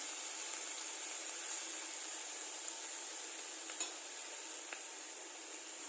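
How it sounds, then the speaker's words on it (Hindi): Steady soft sizzling of garlic frying lightly in hot oil, faint and continuous, with a few small clicks of a utensil stirring in the pan. "इसमें हम जो लहसुन लिया था उसे डाल देते हैं। हल्का सा फ्राई कर देते हैं।"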